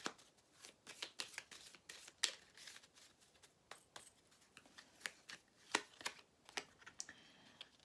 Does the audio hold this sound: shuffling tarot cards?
yes